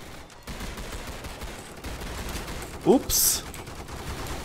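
Gunfire shooting zombies in the Roblox game Zombie Stories: a steady patter of rapid game shots runs under background game sound, with a brief voice and a couple of sharper effects near the end.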